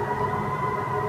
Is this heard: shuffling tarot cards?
no